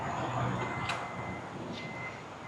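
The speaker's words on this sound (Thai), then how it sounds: "ปิดประตูก่อน" A Toyota Vellfire 2.5 Z G Edition 2017 minivan's sliding door closing, a soft quick slide ending in a brief latch click, with a second faint click shortly after.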